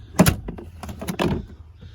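A car's glove box door is worked back into place with a few close plastic knocks and thunks, a sharp clack near the start and softer taps and rattles after.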